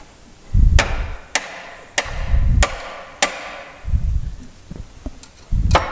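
Hammer blows against a car subframe during a K24 engine swap into a BMW 2002, sharp metallic strikes landing about five times with irregular spacing, each followed by a brief low rumble, loud and close.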